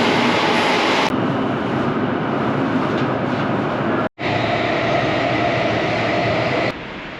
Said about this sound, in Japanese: こちら本日綾瀬行きの電車が入線してきました